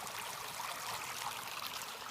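Water pours steadily from a culvert along a trail in Rhode Island, a continuous rushing trickle heard alone at low, even level throughout.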